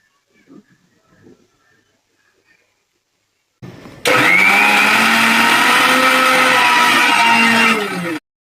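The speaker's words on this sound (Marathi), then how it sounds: "आता आपण हे मिक्सरमध्ये वाटून घेऊया" A mixer grinder blends ginger and garlic, starting with an abrupt loud whir and running at a steady high-pitched drone for about four seconds before cutting off. A few faint soft knocks come before it starts.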